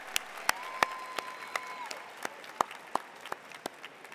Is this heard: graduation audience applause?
yes